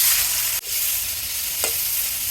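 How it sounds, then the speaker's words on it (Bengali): Fish coated in turmeric and salt frying in oil in a pan, giving a loud, dense, continuous sizzle that drops for an instant and then resumes, with one brief stirring scrape. "মাছগুলি ভেজে নিব"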